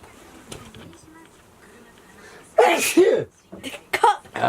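A person sneezes loudly and close by at home, a sharp burst after quiet background noise, followed by further short vocal sounds.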